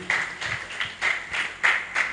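Applause for a student at a youth leadership training lecture comes in several short, close bursts of hand clapping, each swelling and fading quickly, with no talk over it.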